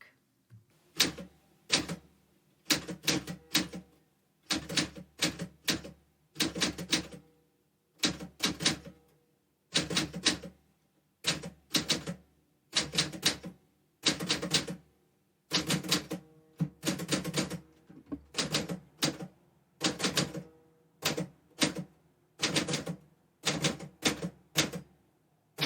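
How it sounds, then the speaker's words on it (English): Keyboard keys are tapped slowly and deliberately in separate clustered bursts with short pauses between them, close and clear with no voices. "close your eyes and begin to type slowly and intentionally. Focus on the physical sensation of each keystroke"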